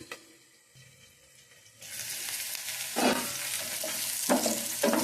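Onion and garlic frying in oil for a bitter gourd tamarind curry, a quiet start that breaks into a loud, steady sizzle with repeated stirring scrapes, no voices.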